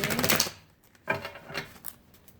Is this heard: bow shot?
no